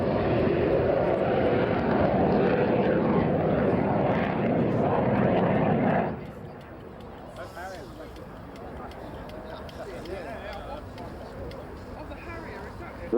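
A display aeroplane flies low and slow at Shoreham Airshow, its engine a loud broad drone for several seconds before dropping away to a fainter hum, while a commentator talks over it.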